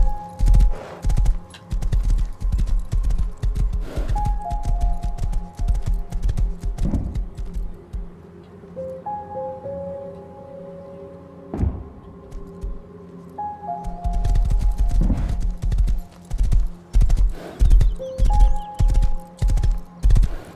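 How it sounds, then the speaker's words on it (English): Rhythmic clip-clop of a horse galloping in the video game Rust, loud and continuous, over sustained electronic music tones, pausing briefly midway before resuming. "ride this horse right back to the base"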